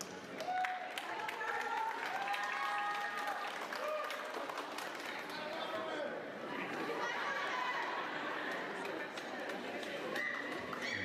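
Graduation ceremony audience clapping for a graduate, a steady crowd wash of applause with chatter and some speech mixed in throughout.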